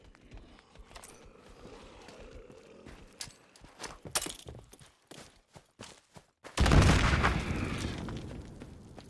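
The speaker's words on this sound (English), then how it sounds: "I think a grenade might help me resolve this problem" Grenade explosion in the Fallout 4 video game, a sudden loud full-band blast that rumbles and decays over a couple of seconds, preceded by scattered sharp gunshots and clattering game sounds.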